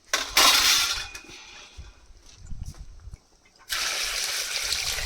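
Water splashes into a pot of crab curry cooking over a wood-fired clay stove in two bursts, a short pour at the start and a steady stream toward the end, with quieter clatter between.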